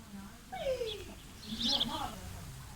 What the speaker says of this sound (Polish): To jest realna papuga.